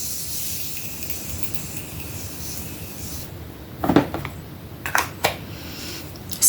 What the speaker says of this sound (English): This is the Morphe Mattifying Continuous Setting Mist, and I'm going to use that to set my face.